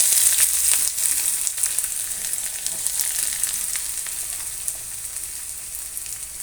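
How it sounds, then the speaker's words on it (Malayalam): Onions going into hot coconut oil for kotthu parotta fry with a steady, bright crackling sizzle, close and loud throughout, easing slightly toward the end, with no voices. "അപ്പോൾ നമുക്ക് ഉള്ളി ഇട്ട് കൊടുക്കാം."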